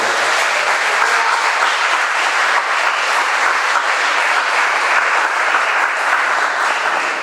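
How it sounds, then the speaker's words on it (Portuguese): Church congregation applauding during a sermon, a continuous loud wash of clapping that stays even from start to finish with no speech. "dê uma salva de palmas para o Senhor"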